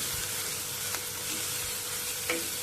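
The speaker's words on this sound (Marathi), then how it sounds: "आता अद्रक लसूण ह्याचा वास जाईपर्यंत ह्याला फ्राय करून घेऊया थोडंसं तूप टाका" Ginger and garlic frying in ghee for paneer momos give a soft, continuous sizzle, close but fairly quiet, with a few faint stirring clicks.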